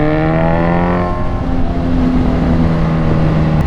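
A Suzuki motorcycle passes on a wide road, its engine drone loud and close before the pitch drops and fades as it moves away, with no talk.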